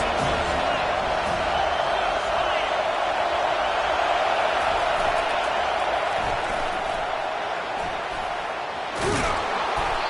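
A football stadium crowd roars for the defense on a third down, a dense, loud, sustained wall of cheering with a sharp thump near the end.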